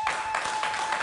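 A studio audience claps in applause for a guest on a French-language talk show, a short burst of dense, even clapping with no voices over it.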